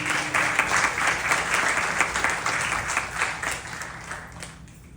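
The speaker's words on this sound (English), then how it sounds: "Give yourself a round of applause." Sustained applause from an audience at a youth yajna gathering in a Hindu mandir, dense steady clapping filling the room and slowly tapering toward the end.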